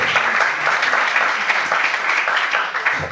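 A church congregation bursts into sustained applause, dense continuous clapping from many hands filling the room evenly throughout.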